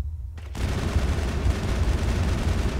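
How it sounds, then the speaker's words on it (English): Assault rifle fire in Mass Effect, a loud, dense stream of rapid shots that kicks in after a half-second lull and keeps rattling without a break. "this assault rifle is freaking awesome"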